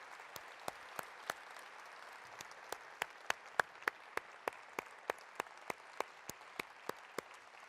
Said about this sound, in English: how about a big round of applause for all of the candidates?